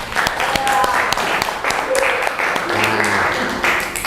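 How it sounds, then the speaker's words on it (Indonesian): A classroom of students at a Quran memorization (tahfidz) Islamic junior high school claps for a classmate: dense, steady applause fills the room with many overlapping hand claps, mixed with scattered voices and brief shouts throughout. "Tepuk tangan dulu buat David."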